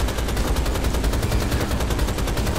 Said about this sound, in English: I will never stop shooting.